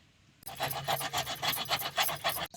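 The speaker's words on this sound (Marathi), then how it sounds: "जसं बारीक खोबरं किसून घ्यायचं" Dried coconut grated by hand for chutney, a steady rhythmic rasping of about a dozen close, even strokes with no talk, following a brief quiet start.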